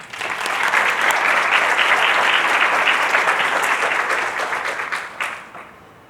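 Audience applause greets a professor introduced at an accounting professionals' event, a dense, steady wash of clapping from a sizable crowd that holds strong for about five seconds, then thins and tapers away.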